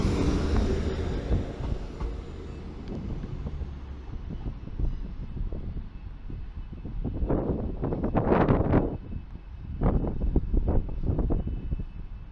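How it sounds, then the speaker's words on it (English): A Trans-Pennine Express class 185 diesel train rumbles in the distance and draws closer into Manchester Piccadilly station, its low drone growing, while wind gusts buffet the microphone. "A northern service to Blackpool North is approaching with a hired Trans-Pennine Express class 185"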